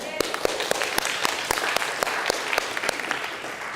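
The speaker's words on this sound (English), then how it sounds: "So can we give them all a round of applause to start off with?" A speaker-event audience applauding, with distinct sharp claps standing out over a steady wash of clapping throughout, fairly loud and close.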